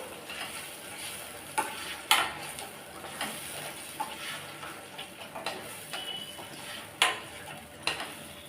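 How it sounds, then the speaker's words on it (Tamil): Masala frying in oil for a Chettinad-style fish curry, a steady low sizzle under repeated sharp scrapes and clinks of a spoon stirring against the pan, with no talking. "ஒரு ரெண்டு நிமிஷம் மட்டும் நல்லா எண்ணெயில் வதக்கி விட்டுக்கலாம்"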